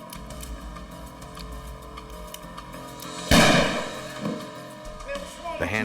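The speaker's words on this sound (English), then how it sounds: "The handgun had gone off accidentally." A handgun goes off accidentally indoors, one sharp loud bang at about the midpoint that decays into a brief rumble, with tense background sound before it.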